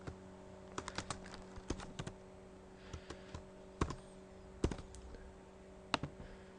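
Keys clack on a computer keyboard while code is typed, in uneven bursts of close, crisp clicks over a steady low electrical hum.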